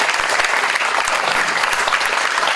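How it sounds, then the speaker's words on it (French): Loud, sustained applause from an audience for Mélina, a dense wash of many hands clapping evenly throughout with no break. "Applaudissements pour Mélina."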